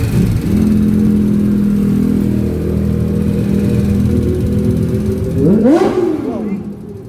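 Highway traffic rushes past in a steady, loud engine drone, with one vehicle revving and sweeping by near the end before the sound drops away.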